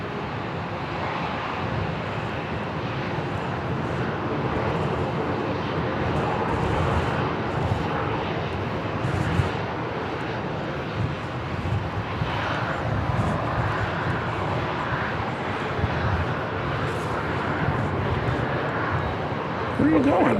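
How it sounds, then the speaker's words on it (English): A helicopter lands at Dallas Love Field airport, producing a continuous broad engine roar that stays steady throughout while voices and air-traffic radio chatter run over it. "We've got a helicopter landing."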